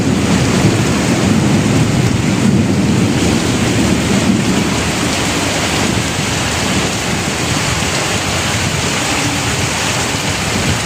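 Heavy rain in a tropical downpour pours in a dense, continuous roar with low thunder rumbling through it, loud and unbroken throughout.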